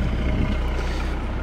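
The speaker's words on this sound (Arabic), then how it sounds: "ترى صوت الاكزوست فيه طرب" A steady, deep SUV engine rumble idles close by through the exhaust, a low pulsing drone with no voices and no change in pace.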